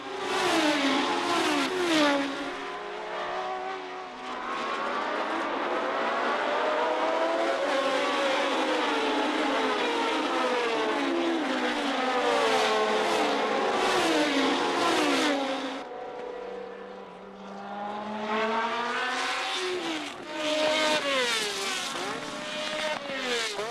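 1970 Formula One race cars, including Lotus, Matra, Brabham and a red de Tomaso, roar past in close battle. Their engines rev up and down with rising and falling pitch, loud and continuous.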